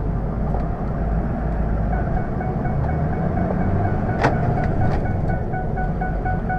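A 2005 Ford F-350 turbo diesel pickup with a five-speed manual backing up in reverse, its low engine rumble steady and close throughout, with a couple of faint clicks near the end and no talk.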